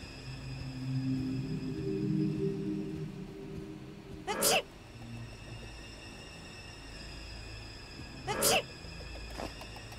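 Two short, sharp sneezes about four seconds apart, the second followed by a smaller burst, heard over a low droning background with faint murmuring voices in an Arctic setting.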